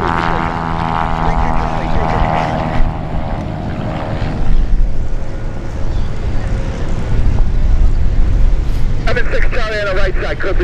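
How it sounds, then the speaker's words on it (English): Light propeller aircraft revving and taking off during busy departures at EAA AirVenture Oshkosh, a steady loud engine drone rising in power as the plane rolls, with radio-style talk from a controller over it. "Clear on the left, clear for takeoff."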